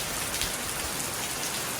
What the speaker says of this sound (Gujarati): ધમધોકાર વરસાદ આવે છે